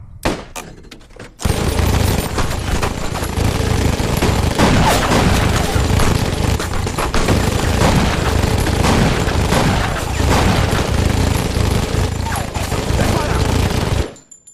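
Sustained automatic gunfire in an action film, loud dense bursts and booms roaring continuously for about twelve seconds after a short quiet opening, with shouted voices mixed in.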